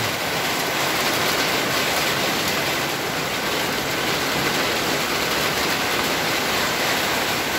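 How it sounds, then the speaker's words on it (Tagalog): Heavy rain pouring down with strong wind, a dense, unbroken roar of downpour that stays loud and steady throughout, with no voices over it. "Bigla na lang po bumagsak na naman ang malakas ng ulan."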